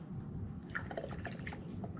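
Water poured into the shallow reservoir of an Arctic Air cooler, heard as faint trickling and dripping splashes over a low steady hum.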